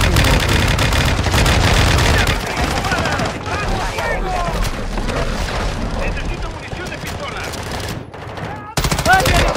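Rapid automatic gunfire and heavy booms from a battle royale video game pound loudly in sustained bursts, with excited voices talking and shouting over the shooting.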